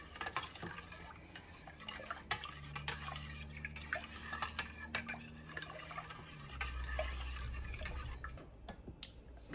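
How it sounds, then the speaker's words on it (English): A spoon stirs yogurt culture into milk, making soft swishing and occasional light clinks against the pot, close and quiet, with a low steady hum underneath. "you're gonna want to mix this in really, really well to distribute all of those live cultures"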